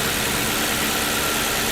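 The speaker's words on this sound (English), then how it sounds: "Listen to that engine purr." A 2009 Ford Crown Victoria police car idles close by, a steady, even engine rumble with low vibration that holds without a break and no one talking over it.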